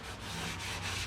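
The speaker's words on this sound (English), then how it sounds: "Well, I couldn't leave off a video without sanding something" Steady, continuous sanding on a metal windshield wiper part for a Factory Five 35 hot rod truck, a close, even rubbing abrasion with slight rhythmic pulses and no talk.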